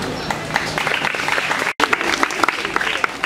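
Applause from a school audience at a stand-up comedy show, dense clapping and crowd noise filling the room, briefly cutting out for an instant midway before resuming loud and steady.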